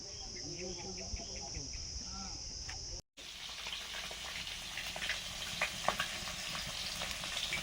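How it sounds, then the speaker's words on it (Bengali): Rohu fish pieces frying in a wok over a wood-fired clay stove, a steady crackling sizzle that grows busier after a brief break, with faint outdoor birds and insects in the background. "রুই মাছগুলো ভাজছি"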